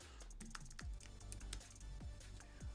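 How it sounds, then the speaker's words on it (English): Keys clack in quick irregular bursts on a computer keyboard during a drawing studio session, close and moderately loud with a low hum underneath. "I need my keyboard."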